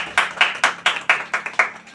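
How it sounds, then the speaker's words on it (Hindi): About eight clapping bursts arrive at a steady beat, loud and close, like several people clapping in rhythm; no talking. "चाहता हूँ आप लोग इसके लिए जोरदार ताली बजाइए"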